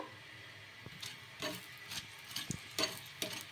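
Rumali paratha cooks in oil on a pan with a faint, soft sizzle, broken by intermittent scraping taps and clicks spaced across the moment.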